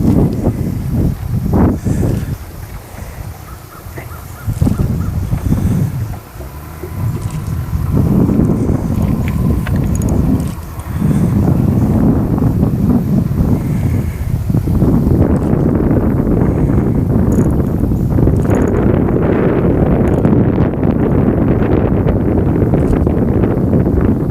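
Strong wind buffets the microphone while fishing outdoors, a continuous loud low roar with gusty surges and brief lulls, and no clear talk.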